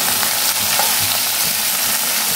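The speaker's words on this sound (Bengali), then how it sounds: "এবারে একসঙ্গে একটু ভেজে নেবো, ভালো করে মিক্স করে নিয়ে" Mixed vegetables fry in a pan for chirer pulao, a steady dense sizzle running throughout with scattered scraping clicks of stirring, close and fairly loud, no voices.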